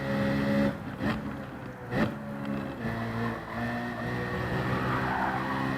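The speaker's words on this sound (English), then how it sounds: "There's a little bit of oversteer right there." A race car in Gran Turismo 7 oversteering, its tires squealing and skidding over a steady engine drone, with a few sharp scrub bursts in the opening seconds.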